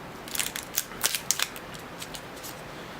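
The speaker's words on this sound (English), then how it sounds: "Next thing we want to do is take off the foil" Foil being torn off the neck of a champagne bottle before sabrage: sharp, irregular crinkling and crackling bursts, close and alone, over a light hiss.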